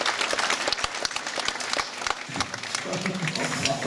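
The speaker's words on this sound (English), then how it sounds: "I think that's worthy of a round of applause looking after all of that." Audience applause fills a room aboard the P&O Oceana cruise ship during a cooking demonstration, steady dense clapping throughout, close and fairly loud.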